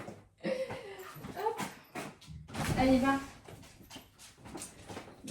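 A dog whimpers and whines near an opened door, high wavering cries rising and falling over several seconds, close by, with a voice speaking briefly over it.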